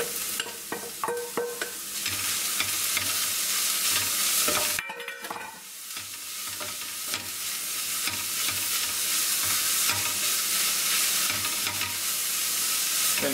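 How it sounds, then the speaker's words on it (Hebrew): Grated carrots and translucent onion are stirred in a frying pan, with loud close sizzling and repeated scraping of the utensil, briefly easing for a moment midway before the frying hiss resumes. "אני מוסיף שני גזרים שקילפתי וגירדתי. גם אני מערבב."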